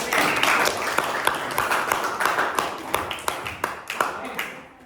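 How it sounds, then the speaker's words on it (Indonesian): A class in a microteaching lesson claps for the MC: a short, fairly close burst of scattered individual claps with sharp, uneven hits that taper off by the end. "Tepuk tangan untuk MC."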